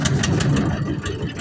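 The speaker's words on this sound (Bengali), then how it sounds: "তখন হচ্ছে আপনার ইঞ্জিনটাকে স্টার্ট দিবে।" The engine of a river boat on the Shitalakshya starts up and runs with a rough, low, pulsing chug and regular knocks, close by and loud, while people talk over it.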